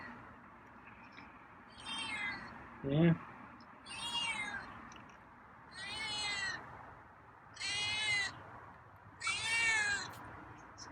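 A feral cat meows repeatedly, five or so drawn-out cries spaced a couple of seconds apart, with a person briefly speaking in between.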